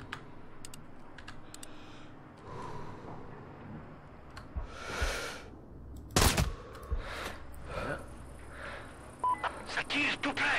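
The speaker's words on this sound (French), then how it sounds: "Ça tire tout près." Gunfire crackles close by in the shooter game Sniper Ghost Warrior 3, with sharp bursts and a loud volley near the middle amid clicks and game ambience, ending in a run of rapid shots.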